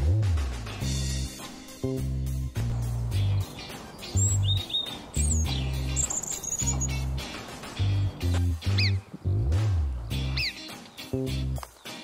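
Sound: birds chirping and singing

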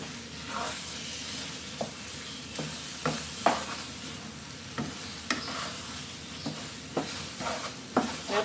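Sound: stir-frying crab with curry powder

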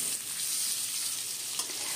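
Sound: potatoes frying in a pan

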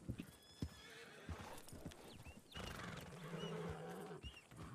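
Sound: horse neighing and hooves in a video game

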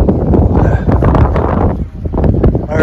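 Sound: wind blowing into the microphone outdoors

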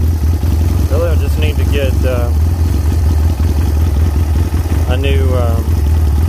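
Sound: Chinese 250cc ATV engine idling

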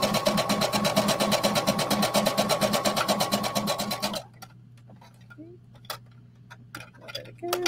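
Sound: sewing machine stitching a tunic curve

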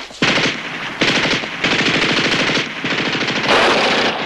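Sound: machine gun fire

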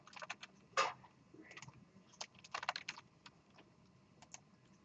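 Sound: typing a command on a computer keyboard

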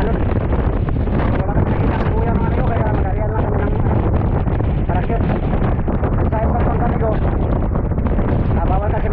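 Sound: strong wind at sea

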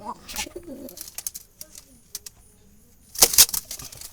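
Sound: rock pigeons cooing

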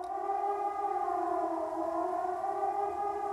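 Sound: civil defense siren blaring in A Letter to the Future Blind video game

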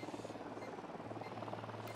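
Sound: helicopter in the video game Ghost Recon

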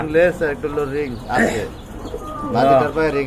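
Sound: pigeons cooing

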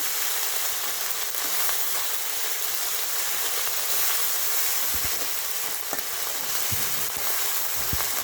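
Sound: frying ginger paste and garlic paste

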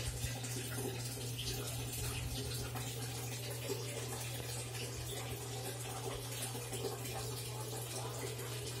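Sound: bathtub filling with water from tap

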